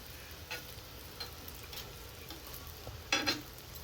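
Eggplant slices roast in oil in a pan, giving a faint, steady sizzle with occasional soft scrapes and a brief louder clatter near the end as the slices are turned. No one speaks.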